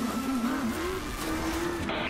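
A car engine in a racing video game hums steadily at a constant pitch with a slight waver, loud and close throughout, with no talking over it.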